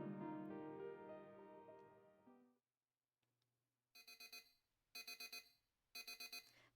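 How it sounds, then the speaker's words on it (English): A visual novel video game alarm clock blares in three loud bursts of rapid electronic beeps, with short pauses between them. The bursts follow a quiet gap that comes after an earlier tonal passage. "The typical sound of your alarm blaring slowly"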